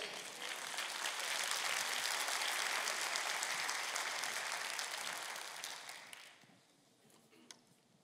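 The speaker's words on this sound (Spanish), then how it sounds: "Date un aplauso." An audience at a church gathering breaks into dense, sustained applause that holds steady for several seconds, then fades away near the end.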